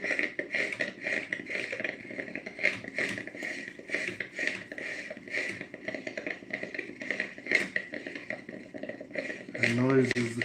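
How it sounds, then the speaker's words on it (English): A coffee maker brews with a steady gurgling, bubbling rattle that carries on throughout at moderate level, with a voice starting up near the end. "That noise is the coffee maker."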